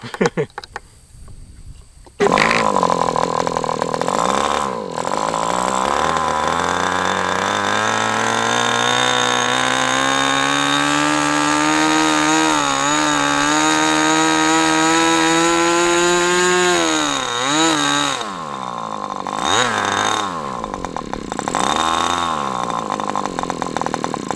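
A small high-revving Mutunuc Millennium Pro 61 model engine screams continuously on its first run, its pitch climbing and wavering, with brief blips and dips near the start and end.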